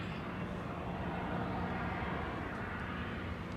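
Asiana Boeing 747 freighter, a passenger-to-freighter conversion, being towed forward by a tug on the ramp at Anchorage: a steady, dense broadband rumble of aircraft and ground machinery, continuous and moderately loud with no talk.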